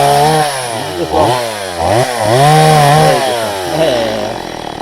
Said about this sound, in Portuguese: Aí tu vai cortando o tamanho certo,